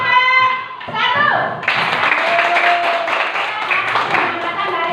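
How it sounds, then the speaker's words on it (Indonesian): Children in a classroom clap for a group after a science lesson about candlelight, with a sustained burst of clapping and excited kids' voices following a short stretch of speech and tones. "tepuk tangan untuk kelompok 1."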